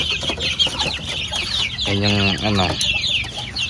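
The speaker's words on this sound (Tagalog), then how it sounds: "At ito yung mga kinulong na manok dito" Caged native chickens cluck close by, with a louder run of stacked, harmonic calls from one bird near the middle. A voice speaks briefly over the steady farmyard clucking.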